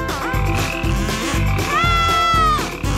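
Frogs croak in a game's challenge scene, over a steady musical, tonal backdrop that runs the whole time, with repeated low pulses and rising and falling tones, loud and without speech.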